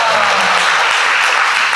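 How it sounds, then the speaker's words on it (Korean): An indoor audience at a gathering gives a dense, loud round of applause that fills the whole moment without pause. "박수 한번"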